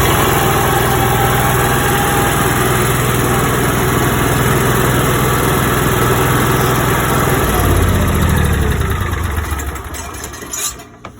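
An RV generator on a 2017 Forest River FR3-32DS runs with a steady, loud engine drone and vibration that continues for several seconds, then winds down and fades near the end. There is no talking.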